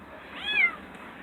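A cat trapped inside a car's engine compartment gives a single thin, rising-and-falling meow, muffled and moderately close, with no talk.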